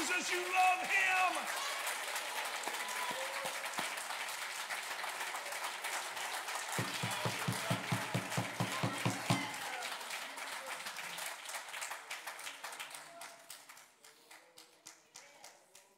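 A church congregation claps hands together in a busy, sustained patter of applause that fills the room, with voices mixed in before the clapping thins out and fades toward the end.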